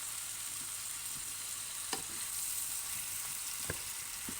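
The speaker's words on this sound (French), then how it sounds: "Je termine la cuisson de ma garniture par les champignons." Mushrooms with soy sauce fry in a pan for a coconut-milk ramen topping, a soft continuous sizzle with a few scattered utensil clicks and scrapes, fairly quiet and without speech.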